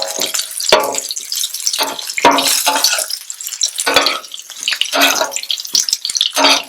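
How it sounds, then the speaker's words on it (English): Ginger, garlic and a piece of pepper frying in oil in a pot for shrimp fried rice, giving a close, steady sizzle and spatter, with repeated bursts as the pieces are stirred and shifted. "We'll add some ginger to the oil to flavor it, and garlic, and a piece of pepper"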